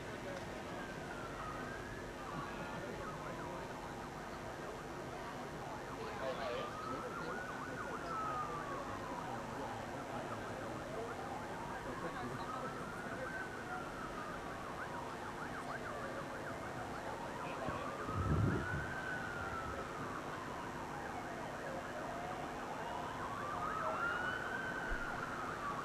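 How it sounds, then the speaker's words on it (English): A wailing ambulance siren rises and falls in slow repeated sweeps far off, faint under the ambient hum of a swimming championship venue, with a brief thump partway through. "There is an ambulance coming past somewhere in the distance,"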